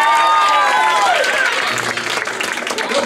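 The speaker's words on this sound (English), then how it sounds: "Give yourselves a big round of applause for coming out here tonight and supporting" An audience at a high school fundraiser show applauds, a dense wash of clapping with some crowd noise, while a voice speaks over the start of it.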